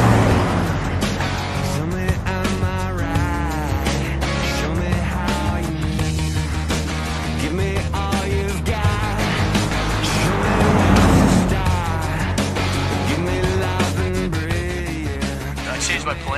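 A 1971 Chrysler Newport drives with a loud continuous engine roar and tire squeal throughout, mixed with voices and music.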